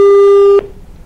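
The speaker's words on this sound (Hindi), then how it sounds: "हाँ तो हमारे किसान भाई का फोन आए।" A steady telephone line tone sounds loud and clear for about half a second as a farmer's call connects to a live phone-in programme, then cuts off abruptly and leaves a faint hiss.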